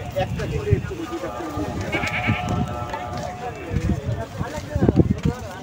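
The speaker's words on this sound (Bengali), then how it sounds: "এখানে যে অনেক ছাগল আছে বন্ধুরা" Goats bleat repeatedly close by, overlapping with people talking and the shuffle of hooves at a busy Eid sacrificial livestock market in Diabari, Uttara, Dhaka.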